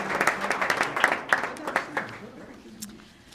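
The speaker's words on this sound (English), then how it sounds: "Please give them a round of applause." A small audience at a public event about a Dr. Seuss license plate gives scattered applause, with distinct individual claps in an uneven rhythm that thin out and fade toward the end.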